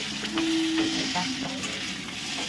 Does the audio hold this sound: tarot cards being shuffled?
no